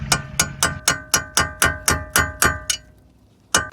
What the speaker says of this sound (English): Remove the bolt out using a hammer and a metal punch.